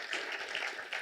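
Brief, soft round of applause from an audience, steady dense clapping heard at a distance for about a second with no voices.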